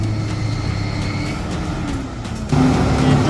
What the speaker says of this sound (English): rescue tractor with a 200 horsepower engine roared loudly, pulling the steel wire taut